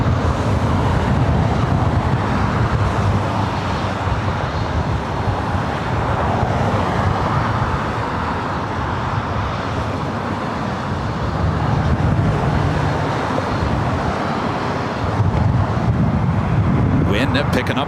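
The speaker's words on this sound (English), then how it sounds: "wind picking up once again." Steady wind roars across an open airfield at Los Angeles International Airport, a constant broadband rush that continues throughout, with a faint rumble of distant aircraft or traffic underneath.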